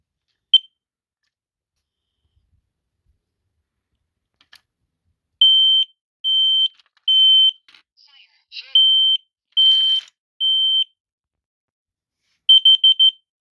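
A battery-powered smoke detector beeps after its reset button is pressed, giving a click and then a series of sharp, loud, evenly spaced electronic chirps, ending in a rapid beeping burst.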